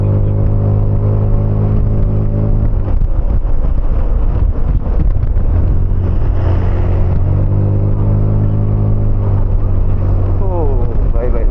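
A Zontes motorcycle climbing a hill, its engine droning steadily with strong wind buffeting the rider's microphone, and the note rising and falling as it pulls uphill; the rider talks over the engine noise.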